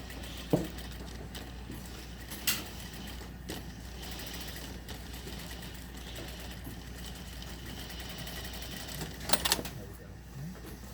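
A sewing machine runs a row of easing stitches in tailoring work, a steady low mechanical hum with a few sharp clicks and knocks, close and moderately quiet.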